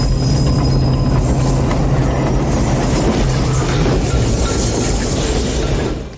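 An elevated L train rumbles continuously with steady wheel-on-rail roar and faint metallic squeal during a mob chase in the 80s action film Next of Kin, loud and close throughout before easing slightly at the end.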